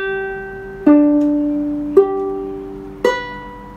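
Ukulele chord picked one string at a time: three distinct plucked notes about a second apart, each ringing and sustaining into the next, close and clear with no voices.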